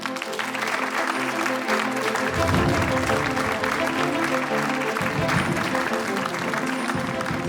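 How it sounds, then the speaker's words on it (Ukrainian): A sustained wave of applause for an award recipient fills the room, steady and loud, with music playing underneath. "Ваші оплески."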